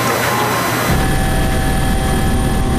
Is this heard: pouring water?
no